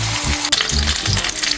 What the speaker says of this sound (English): once you put it in the frying pan, skin down, don't touch it, don't flip it, don't look at it the wrong way, just let it cook for 10 minutes on the skin